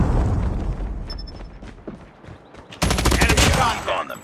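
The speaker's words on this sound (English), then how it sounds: "Predator missile inbound." Predator missile strike in Call of Duty Mobile, with dense rapid gunfire and a loud, sustained blast that lands partway through and keeps rumbling with crackling debris, while a faint voice sits under the battle noise.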